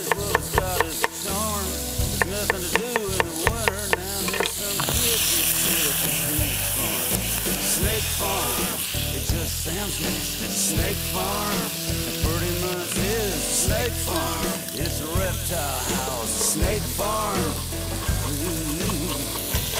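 Onion frying in a casserole for arròs a la cassola, a loud, continuous sizzle crackling near the pan, broken by stirring and scraping knocks throughout, with no talk over it.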